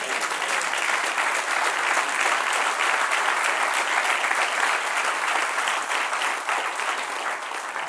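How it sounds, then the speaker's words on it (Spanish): A church congregation breaks into sustained applause, a dense, even roar of clapping hands that stays loud and steady throughout, with no voice standing out above it. "Denle un aplauso al que reina."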